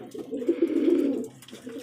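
A white-eyed pigeon coos in one close, rolling call lasting about a second, then a quieter coo follows.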